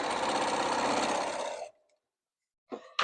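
A sewing machine stitching fabric scrap strips runs in a fast, steady whir for over a second, then stops abruptly, leaving near silence before a brief soft rustle and clunk.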